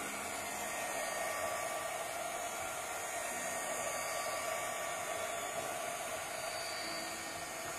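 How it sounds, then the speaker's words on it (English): A heat gun blows on a bowl while making mushroom gnome candle holders, giving a constant, even, fan-like whoosh that holds steady for the whole stretch with no talking. "But boy, the heat gun sure does save me time during my crafts"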